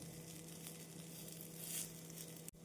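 Bread and egg toasting in butter on a hot pan give off a steady, close sizzle with a soft crackle throughout, alone without any voices.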